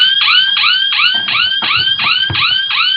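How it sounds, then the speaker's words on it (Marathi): Robotic safety sandals, touched together, set off a loud electronic siren: a rapid run of rising whoops repeating about every third of a second, close and continuous, with no talking. "हे जर दोन्ही सँडल टच केले एकमेकाला तर एक सायरन वाजायला लागतो।"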